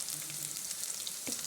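Cauliflower frying in a pan gives a steady, close sizzle and crackle that runs unbroken, with a brief stir or shift of the pieces near the end.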